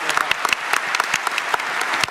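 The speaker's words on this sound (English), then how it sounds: "A round of applause for Chris." Audience applause at a PAX West panel for the game Anthem: dense, steady clapping from a crowd throughout, with scattered sharper claps standing out and no talk over it.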